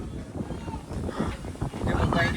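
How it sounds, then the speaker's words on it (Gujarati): Strong wind buffets the microphone with a continuous rushing roar, gusting louder toward the end. "ખતરનાક પવન છે આવો પવન મેં ક્યારેય જોયો નથી"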